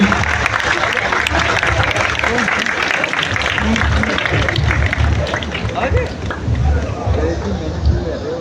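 Energetic applause and cheering from a class audience welcome Sir Ameen Alam, a continuous dense clapping roar with crowd babble mixed in that stays loud throughout.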